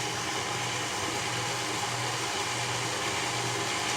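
An electric mixer runs on low, blending eggs into buttermilk pie batter, a steady whirring motor hum that holds even and unbroken throughout.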